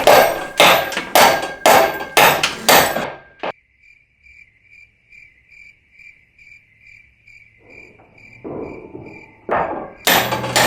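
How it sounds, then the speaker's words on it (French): A hammer strikes repeatedly during a renovation job fitting a wall plate with threaded rods: about seven loud, rapid close blows in the first three seconds, then a quiet stretch filled with steady cricket chirping and a few soft knocks. "Le marteau. Tiens, marteau, tiens."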